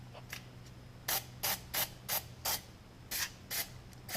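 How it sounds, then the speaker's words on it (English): Short hissing bursts of an aerosol penetrating spray, about nine quick sprays in an irregular rhythm, close and fairly loud over a quiet background hum. "you want to hit them with some spray blaster."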